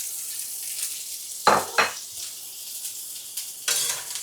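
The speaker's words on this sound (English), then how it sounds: "2-3 tablespoons of oil. Get smoking hot. First thing I'm going to put in is our onions." Half a white onion frying in smoking hot oil crackles with a constant close sizzle, broken by a few stirring scrapes and clanks of a utensil against the pan, with no talking.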